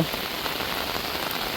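A brief stretch of heavy rainy-season downpour in a village, constant close hiss of drops drumming on surfaces, loud and unbroken.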